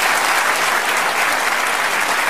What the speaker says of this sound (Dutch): Geef hem in ieder geval een groot applaus